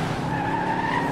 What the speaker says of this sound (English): hear that car go